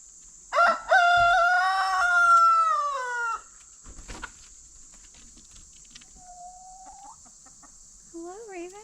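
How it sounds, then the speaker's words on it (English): Chickens at feeding time: a rooster crows loudly and clearly nearby, followed by quieter scattered clucks and short rising calls, all over a constant faint high-pitched hiss. "You sweet chicken."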